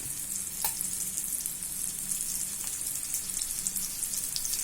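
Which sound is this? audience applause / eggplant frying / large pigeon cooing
eggplant frying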